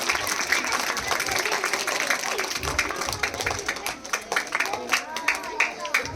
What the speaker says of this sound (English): Give a huge round of applause for them.